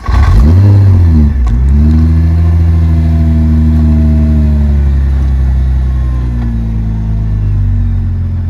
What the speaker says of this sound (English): So I just started the car, I popped in reverse.